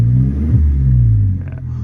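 A Vauxhall Corsa engine running with no exhaust fitted gives a loud, close, deep rumbling rev that swells briefly and then eases back, with no voices.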